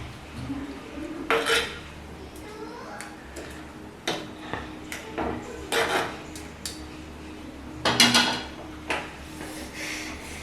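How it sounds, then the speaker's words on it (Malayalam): A spoon mixes fish peera ingredients in a pan, with irregular metallic clinks and scrapes against the cookware, some sharp and loud, over quiet kitchen background. "എന്നിട്ട് ജസ്റ്റ് ഇങ്ങനെ മിക്സ് ചെയ്ത് കൊടുക്കുക."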